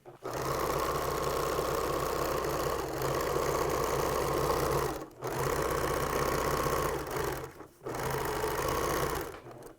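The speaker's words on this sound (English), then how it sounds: "I'm going to use this mark on my sewing machine to guide it" A sewing machine stitches fabric for a T-shirt quilt backing in steady, rapid mechanical bursts, pausing briefly twice before starting again, close and fairly loud with no talking.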